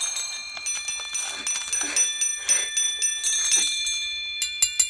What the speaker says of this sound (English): Wimbley, ring your bell.